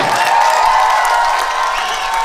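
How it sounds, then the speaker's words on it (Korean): An audience at a children's learning festival finale applauds and cheers loudly in a dense, continuous wash of clapping with a few shouts, with no speech over it. "박수 한번 크게 보내주세요."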